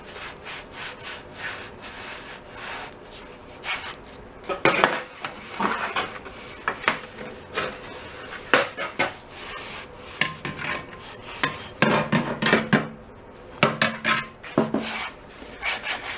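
Close rubbing and wiping strokes work over a wooden surface, scratchy and uneven, with clustered bursts of friction and short pauses between them and no talking.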